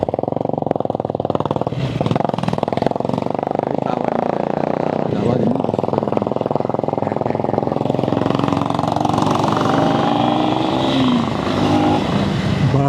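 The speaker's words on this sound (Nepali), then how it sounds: "एउटा बुलेट बाइक अगाडि आएको छ VAT VAT VAT VAT VAT VAT VAT VAT गर्दैछ" A Bullet motorcycle rides ahead on a road in Nepal, its continuous, throbbing engine loud and close throughout while people talk over the noise.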